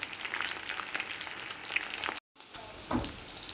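Chicken pakoda deep-frying in hot oil, a steady dense sizzle and crackle held close and loud, broken by a brief pause before the bubbling resumes.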